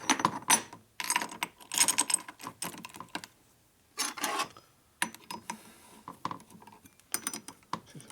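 Rocker arm tips from a 1961 Harley-Davidson FL 74ci panhead engine ground in a workshop, heard as short, irregular bursts of scraping and clicking with brief quiet gaps between them, fairly close and not loud.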